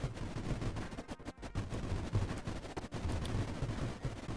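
Anti-creeper bombs and gunships firing in Creeper World, a sand-style game: a dense, continuous crackle of rapid gunfire and thuds over a rough rumbling bed, with a few sharp gaps, fairly loud and without voices.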